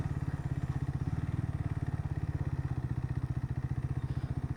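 A motorcycle engine idles at a viewpoint, giving a steady, rapid low thumping pulse that stays even and close throughout, with no voices.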